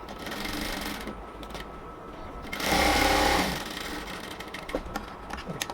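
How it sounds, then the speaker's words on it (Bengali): A sewing machine double-stitches the waistband of a ladies' pant, a loud continuous rapid mechanical whirr that surges briefly in the middle before settling back to steady stitching. "এবার এটাকে আবার ডাবল সেলাই দিয়ে নেব।"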